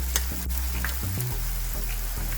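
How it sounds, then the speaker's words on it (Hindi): Garlic ginger paste hits a pan with ground tomato, giving a short burst of frying sizzle with a low hum underneath and a few light clicks of stirring. "अब इसमें हम डालेंगे लहसुन अदरक का पेस्ट है।"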